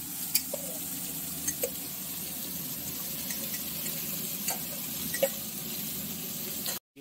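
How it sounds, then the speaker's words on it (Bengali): Potato and pumpkin curry, tempered with black cumin and dried chili, sizzles softly in a pan as a low, continuous hiss with occasional faint pops and ticks. "দেওয়া হয়েছে কালো জিরে ফোড়ন, শুকনো লঙ্কা ফোড়ন দিয়েছি"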